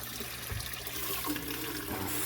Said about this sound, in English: Fill it right up out of my fish tank water, well, little fish pond water.